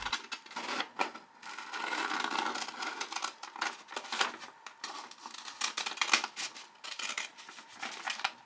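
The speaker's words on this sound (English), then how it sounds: "Cut the paper on the lines you just made." Scissors snip along drawn lines in a paper hat pattern, a quick irregular run of crisp, close cuts and papery crinkles with brief pauses between bursts.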